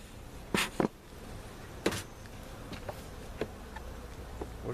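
Bees buzz faintly inside a beehive with a laying-worker problem, a low steady hum broken by a few louder buzzing passes of single bees close by.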